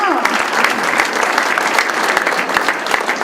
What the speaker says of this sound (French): on les applaudit chaleureusement, s'il vous plaît